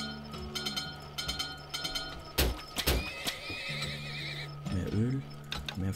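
Horse neighs and whinnies from the video game Turmoil ring out repeatedly over game effects and a steady hum, with a prominent whinny near the end and occasional game sounds in between.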